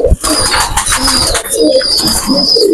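Bhusal pigeons, a breeding pair of pure-line birds, coo in a pigeon breeding room, a steady run of soft low coos and rustling close by with bright chirps overhead throughout.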